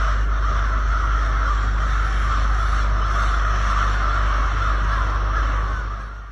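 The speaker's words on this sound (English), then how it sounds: "Crows are gathering in the city in numbers that seem impossible, covering power lines, rooftops, trees, and just generally making their presence extremely known." Crows gather in huge numbers across a city's power lines, rooftops and trees, a dense, continuous chorus of loud, harsh cawing from many birds at once that holds steady before fading slightly at the end.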